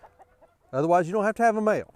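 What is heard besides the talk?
rooster crowing and chickens clucking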